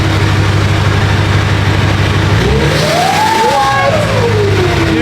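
Duramax diesel engine with a 9-blade turbo, cold start on a frigid early morning, running at a steady low rumble before a single rev rises and falls with a sweeping turbo whistle, close and loud.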